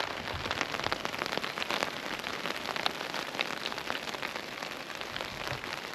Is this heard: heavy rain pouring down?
yes